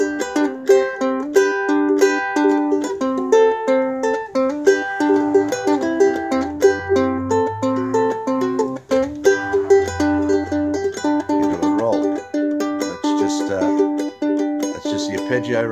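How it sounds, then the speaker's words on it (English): A ukulele plays a tune with Travis picking, the bright plucked notes rolling in a steady alternating pattern up close, with a soft bass-like line weaving underneath midway and no talk. "3-2-4-1-3-2. And in a tune, it can sound like this."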